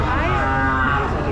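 Cattle at a livestock auction in San Joaquin, Philippines, let out a loud, drawn-out moo that bends upward in pitch, close by, over a busy background of crowd noise.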